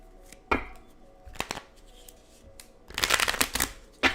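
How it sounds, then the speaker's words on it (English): An oracle card deck being shuffled up close, with a single riffle burst followed by two longer bursts of rapid, crisp card flutter and no talking. "Okay, gave them a really good shuffle."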